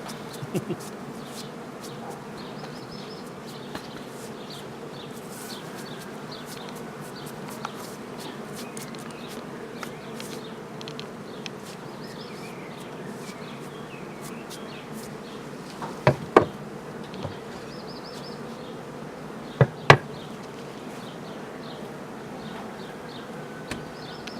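Steady droning hum of many bees buzzing close by during a honey harvest, with a few sharp knocks and clicks breaking through now and then.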